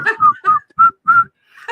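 A person whistles a short tune of about five clear, bright notes in a bouncy rhythm, close and loud, with brief gaps between phrases.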